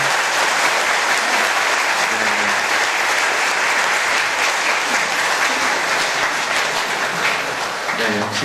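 Congregation applauding at a Catholic diocesan celebration for the bishop's name day, loud sustained clapping from a large crowd, dense and even throughout with faint voices mixed in.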